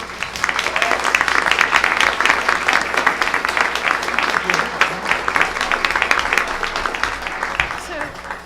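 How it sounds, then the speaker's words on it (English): An audience at a school board meeting applauds students, loud sustained clapping from a roomful of people that continues throughout, with faint voices mixed in. "Please join me in applauding these students and their incredible accomplishments."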